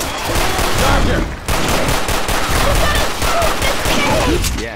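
Sustained automatic gunfire in Left 4 Dead, loud rapid bursts of shots rattling almost continuously, with a brief break partway through and voices faintly mixed in.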